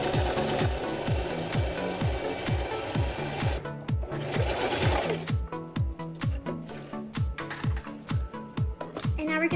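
Singer Prisma Heavy Duty sewing machine stitching through 100% cotton fabric, a fast, regular mechanical clatter of needle strokes, close and clear, pausing briefly before resuming.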